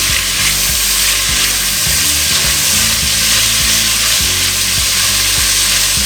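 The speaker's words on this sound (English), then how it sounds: "We're going to cook this for about just 5-10 minutes to brown up nice and good." Cabbage frying in a hot pan to brown, a loud, steady, close sizzle that never lets up, over a low hum.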